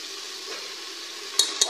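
Chicken mince, half a kilo, goes into already-fried masala in a pan and sizzles steadily, with two sharp metallic clinks of a utensil near the end.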